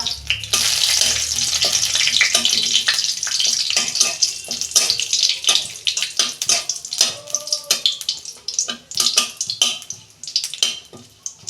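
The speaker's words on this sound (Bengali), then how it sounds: "ওই কড়াতেই আমি তেল দিচ্ছি, একটা তেজপাতা ফোড়নে দিচ্ছি, একটা শুকনো লঙ্কা" A bay leaf and a dried red chilli hit hot oil in a kadai, just after potatoes were fried in it. A loud, dense sizzle bursts up at first, then settles into scattered crackles and pops.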